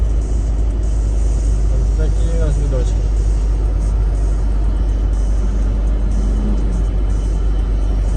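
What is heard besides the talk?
car driving, engine rumble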